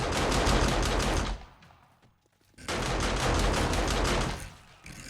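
Automated turrets in 7 Days to Die rattle out long, loud, steady bursts of rapid fire, break off into a short quiet gap, then open up again in another sustained volley.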